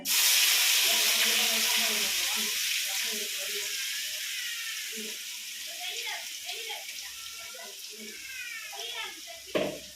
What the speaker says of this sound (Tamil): இப்போ அரைச்சி வச்சுருக்க மசாலாவை இதில் தாளிக்கணும்